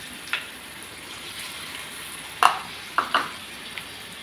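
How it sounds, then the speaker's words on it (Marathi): Mustard seeds and cumin crackling in hot oil on a home stove: a low, steady fry with a few sharp, scattered pops, two clustered close together near the end. "मोहरी छान तडतडली की मग जिरे टाकायचे."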